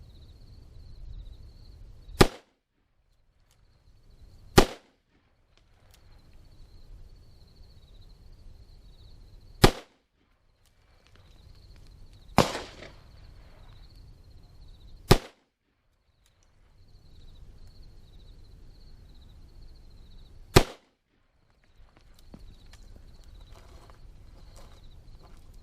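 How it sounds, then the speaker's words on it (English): Smith & Wesson 610 revolver with a 3 7/8-inch barrel firing 10mm rounds across a chronograph: six sharp single shots spaced several seconds apart, each alone against quiet background hum. "I will be utilizing the Smith & Wesson 610 3 7/8" barrel, 10mm across the chronograph, and also for accuracy."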